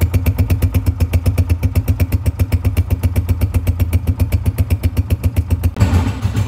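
A motorcycle with an oil leak idles close by with a fast, even, thumping putter, then revs briefly near the end.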